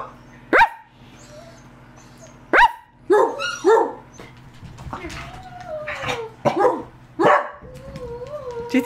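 Sharp dog barks burst out in a loose series, some close and loud, with a higher yip mixed in, while people talk quietly in the background.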